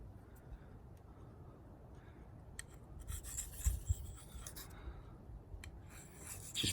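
A steel knife blade is worked across a whetstone, giving a soft, continuous gritty rasp of rubbing strokes, close and fairly quiet, with a few sharper scrapes and taps toward the middle and end.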